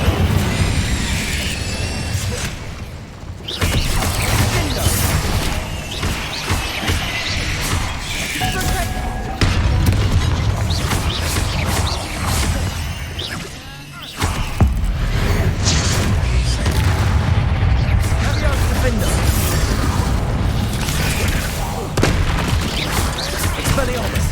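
Spell combat in Hogwarts Legacy, Confringo and Incendio blasts going off in a dense run of booms, bursts and crashes over a busy game soundtrack, with brief lulls between volleys.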